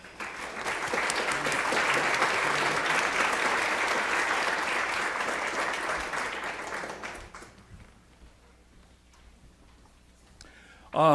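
An audience claps steadily in a hall to welcome a speaker at a monastic institute gathering, a dense sustained wash of applause that holds for about seven seconds, then thins and fades, with a voice starting at the very end.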